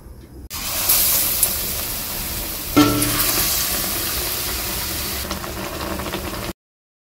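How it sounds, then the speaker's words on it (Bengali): Eggplant beguni fritters frying in hot oil give a steady, close sizzling hiss throughout, with a sharper burst of crackle partway through as more batter hits the oil, then the sound cuts off abruptly. "বেগুনিগুলো কিন্তু ভেজে নেব।"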